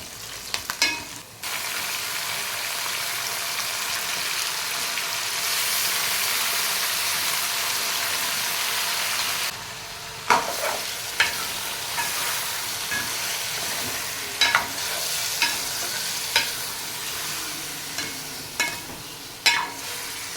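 An onion-based chicken curry base fries in oil, a continuous loud hiss and sizzle from the pan punctuated by brief stirring clatters and scrapes; no one speaks.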